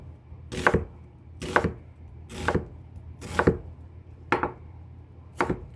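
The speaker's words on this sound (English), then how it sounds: "Just cut it about the same size as you cut the celery." A knife chops vegetables for black-eyed pea soup on a cutting board in six distinct, evenly spaced strikes, each a sharp close knock over a low steady background hum, with no talking.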